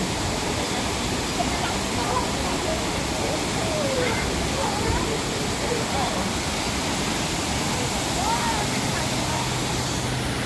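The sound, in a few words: rushing water in Hong Kong Park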